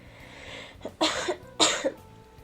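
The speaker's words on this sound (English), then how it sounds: "Why am I coughing so much?" Two sharp coughs in quick succession, close and fairly loud, preceded by a soft throat noise, with quiet room tone before and after.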